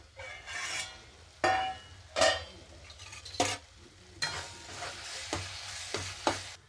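Ridge gourd sautéing in a pan, a low sizzle under a series of separate stirring scrapes and spatula knocks spaced a second or so apart, nearby and moderately loud.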